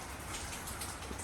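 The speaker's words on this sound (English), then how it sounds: "This is the perfect rainy fall day." Rain falls steadily on a rainy autumn morning in Toronto, a soft, even patter and hiss of drops, faint and continuous with no voices.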